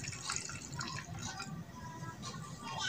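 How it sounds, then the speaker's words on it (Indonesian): Soap bubble liquid poured into an empty container gives a soft, continuous trickling and splashing, quiet and close, with small drips breaking through the steady liquid flow. "di sini saya sudah ada wadah kosong saya akan isikan cairan gelembung sabunnya"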